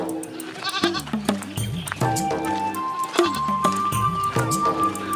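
A goat bleats in a rural village yard, its wavering cries rising over a busy, loud backdrop of rhythmic music and clatter.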